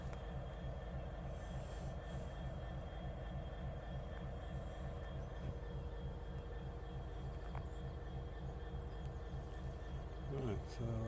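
GBRf Class 66 locomotive 66724 'Drax Power Station' pulls away at the head of train 4O19, a steady heavy diesel rumble with wheel squeal, rising toward the end, while people talk nearby.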